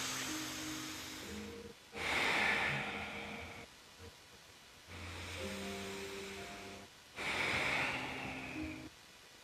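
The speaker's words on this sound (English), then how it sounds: "Inhale, breath." Slow, deep breaths during a yoga stretch, each long whooshing inhale and exhale rising and fading in turn, close and alone against a quiet hum, with no talking.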